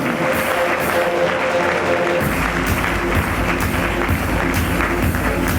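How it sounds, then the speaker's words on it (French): Loud sustained clapping from the audience at an entrepreneurs' evening as student project teams are welcomed, a dense steady ovation that swells midway. "Yoadis, HC2M et Billy, sous vos applaudissements."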